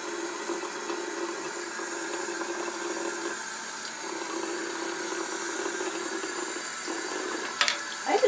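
Tap water runs steadily into a sink where an Abyssinian cat plays, a continuous hiss and splash held close and even throughout, with a brief clatter near the end.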